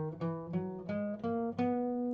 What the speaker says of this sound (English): So if I were to play the major scale just quickly,